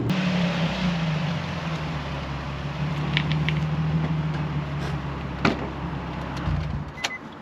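Interior of a Nissan 350Z fitted with an F1-style steering wheel on a test drive: a steady low engine drone with road rumble, a few faint creaks and small clicks, and a brief sharp knock near the end as the car settles.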